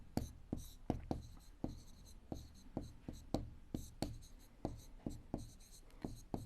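A pen or chalk writes out an equation during a class 7 maths lesson, with a steady run of short scratchy strokes and taps, close and fairly quiet.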